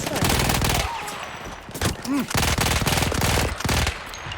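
Rapid bursts of automatic gunfire in Battlefield 1, loud and close, with brief pauses between volleys and some game sounds mixed in.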